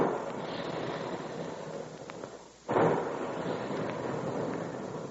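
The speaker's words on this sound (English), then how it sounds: "And there go the big guns" Big guns firing as a sound effect in an old-time radio cereal commercial: a single sharp, loud blast bursts in after a brief dip, then a dense roaring rumble that carries on to the end, with no talk.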